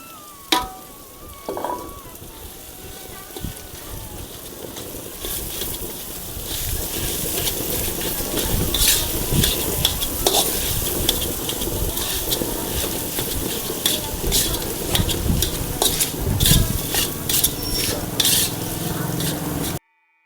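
Crumbled boiled potatoes are stirred into a pan for a mirchi vada filling, with continuous scraping and soft sizzling that grows busier and louder after the first few seconds, broken by occasional utensil knocks on the pan.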